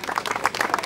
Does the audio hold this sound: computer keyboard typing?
no